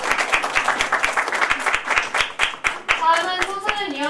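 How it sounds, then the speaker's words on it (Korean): An audience that includes children claps at a community children's and youth committee event, close and lively bursts of hands with kids' voices chattering over the applause. "큰 박수 부탁드립니다."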